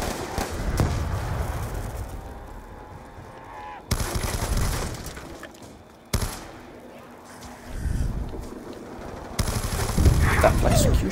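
MTAR assault rifle in Black Ops 2 Zombies rattling off in sustained automatic bursts, loud and close, with short pauses between volleys over game ambience.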